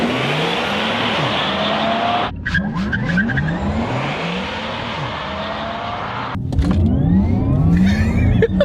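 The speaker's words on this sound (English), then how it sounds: "In the Porsche Taycan Turbo S, you get kind of this Jetson sound" A Porsche Taycan Turbo S electric car driving at speed gives off a synthetic, futuristic whirring drive sound, with pitch sweeping up and down through repeated acceleration passes. The sound is loud and close and carries no speech.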